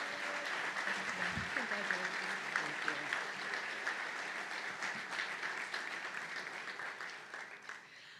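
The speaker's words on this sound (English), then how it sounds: "How about one final round of applause for our honorees this afternoon?" An audience at a county Board of Supervisors meeting gives a sustained round of applause for award honorees, steady dense clapping that fades slightly near the end.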